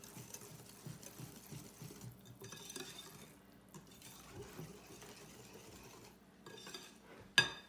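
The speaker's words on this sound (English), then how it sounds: "I'm going to stir as little as possible." Cake batter of baking soda and coffee stirred gently in a bowl, soft rhythmic scraping and a few faint clinks, quiet and close, ending in one sharp knock of the utensil against the bowl.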